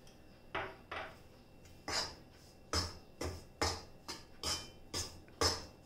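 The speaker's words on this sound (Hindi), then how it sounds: "और ऐसे ही बीच बीच में घी ऐड करते हुए हमें ये आटे को अच्छे से थोड़ा कलर चेंज हो जाए तब तक भून के लेना है।" Dry wheat flour roasting in ghee in a pan for fenugreek laddoos, heard as a regular series of sharp scraping and clinking strokes of a utensil against the pan, about two per second, close and clear with no talk.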